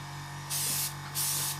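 Airbrush or spray can hisses in two steady bursts of about half a second each over a constant low hum, coating a Trumpeter 1/32 Swordfish model kit indoors.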